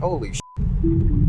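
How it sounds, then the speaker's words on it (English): A short, flat, steady censor beep bleeps out a swear word in a Tesla on Navigate on Autopilot, with a voice just before it and continuous road rumble inside the car throughout. "that beep was not the car, that was me censoring out my language"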